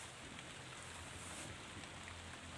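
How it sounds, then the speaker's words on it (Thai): Steady, faint hiss of rain falling over a backyard garden with banana plants and free-range chickens, continuous and even with no talking. "ฝนตกซะแล้วครับ"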